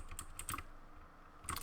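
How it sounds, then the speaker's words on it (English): Loud computer keyboard clacking during a survival game, with quick repeated presses of the E key in small bursts close to the microphone. "my keyboard is extremely loud"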